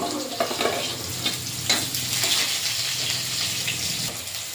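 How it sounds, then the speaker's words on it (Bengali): Onion fries in hot oil with black five-spice seeds in a pan, making a loud, continuous close sizzle with bursts of crackle as it is stirred. "পেঁয়াজটা ভাজা ভাজা করে নেব।"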